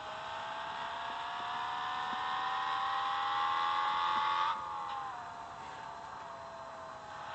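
A car in the Public Transport Simulator game accelerates flat out, its engine whine climbing steadily in pitch, then dropping sharply at a gear change before settling at a slightly lower, steady tone.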